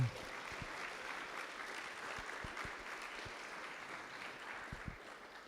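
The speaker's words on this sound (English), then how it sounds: "give a round of applause for him" Audience applause at a presentation, a steady wash of many hands clapping at moderate distance, fairly soft, with a few sharper individual claps standing out.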